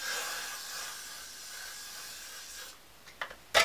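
Got2b Blasting Freeze hair spray hissing from the can in one long, steady, close burst aimed at the hairline edges, followed by a few short clicks and rustles.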